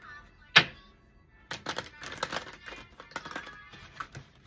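A deck of tarot cards is shuffled close up, giving a soft run of rapid papery riffles and taps after a single sharp knock, with a faint voice murmuring underneath.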